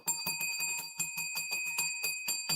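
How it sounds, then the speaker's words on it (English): A handheld bell rung to announce a giveaway winner clangs in a rapid, even run of about a dozen bright strikes, close and loud with no talking. "I got to get the bell out."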